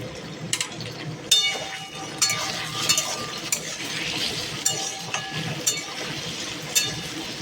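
Diced potatoes fry with whole cumin in hot mustard oil, with a constant low sizzle close by and repeated sharp clinks and scrapes as a metal spatula stirs the pan.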